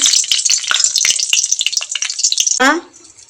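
Dry red chili, cinnamon, cardamom and bay leaf crackle and spit in hot oil with dense, steady sizzling pops, then a brief voice cuts in near the end as the frying sound drops away.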